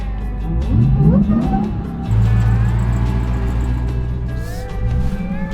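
A Jeep with a swapped Demon engine growls and revs as it drives off-road through desert terrain. The engine is close and loud, surging and easing in uneven pulls with a steady low rumble.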